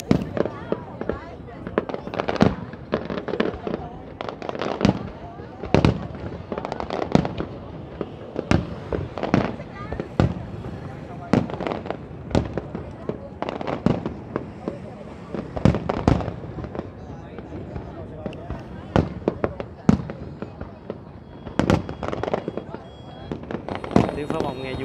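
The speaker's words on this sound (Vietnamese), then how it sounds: "Tiếng pháo bông nghe vui tai chứ nhỉ." Lunar New Year fireworks for Tết Canh Tý 2020, seen beside an 81-storey tower, with loud, continuous booms and crackling bursts through the whole stretch, some low-altitude shells among them, and voices faintly underneath.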